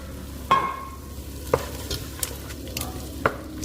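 Tomato paste is stirred into onions frying in a pan, the sizzle running underneath as a spoon scrapes and knocks against the pan several times at irregular intervals, with no voices.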